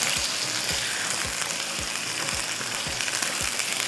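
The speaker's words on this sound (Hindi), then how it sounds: "चलिए अब इसको आपने अच्छे से फ्राई कर लेना है चिकन को।" About 700 grams of chicken frying in a pan, a steady loud sizzle with faint periodic scraping or stirring beneath it, no voices.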